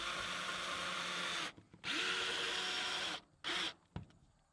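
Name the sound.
power drill driving screws through OSB into metal framing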